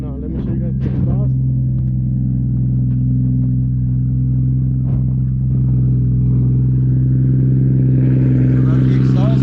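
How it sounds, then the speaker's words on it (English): A 2JZ-swapped Chrysler 300 with an unfinished exhaust still lacking a muffler, droning loud and close in a steady low rumble that builds slightly toward the end. "let me show you guys the exhaust"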